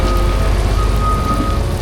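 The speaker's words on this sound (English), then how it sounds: "Yeah, it's raining bad" Heavy rain pours down steadily and loudly outdoors beside a truck hauling an oversize CAT D6 dozer with ripper, a dense continuous hiss with no voices.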